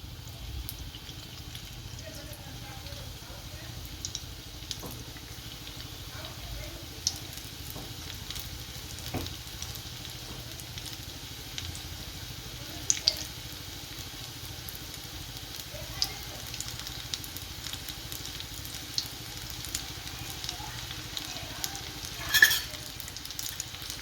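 Garlic bhajiya fritters sizzle in hot oil with a steady, faint frying crackle and occasional soft pops and stirring clinks, without talk.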